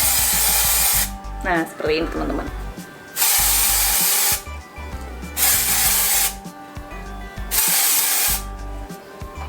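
Dry shampoo sprayed from an aerosol can onto hair in three loud, steady hissing bursts of about a second or more each, separated by pauses in which someone speaks.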